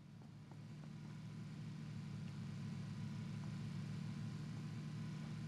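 A steady, low engine drone hums continuously, like a car cruising at constant speed, fairly quiet and unchanging, in the video game PlayerUnknown's Battlegrounds.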